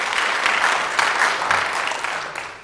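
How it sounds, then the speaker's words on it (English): An audience at an evening board event claps together in a steady, fairly loud round of applause that runs for the whole stretch and thins slightly toward the end. "so just a round of applause for Mr. Atkins"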